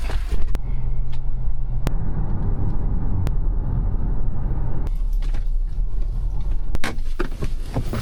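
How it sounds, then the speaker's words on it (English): A car rolls along toward farm fields on a sheep-raising outing, a steady low engine rumble and road noise with a few sharp clicks and knocks, fairly close and continuous throughout. "I'll follow him with the car."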